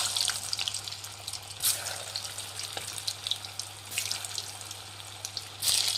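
Small radish manchuri balls deep-fry in hot oil over a medium flame, giving a steady broadband sizzle with a low hum underneath and a few louder surges, with no talking.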